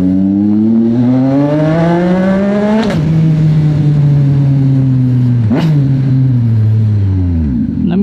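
A Yamaha XSR 900 motorcycle engine heard close while riding through Manila, loud and steady, revving up through gears with two sharp shifts and a dropping tone between them.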